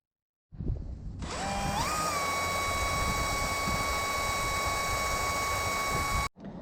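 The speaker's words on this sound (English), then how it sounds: "I'm going to take these off and drill them" A power drill whirs up to speed, drilling parts for a Yamaha XV750 motorcycle, then holds a steady, high-pitched whine for several seconds before cutting off abruptly.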